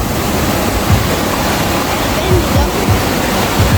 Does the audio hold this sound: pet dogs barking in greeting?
no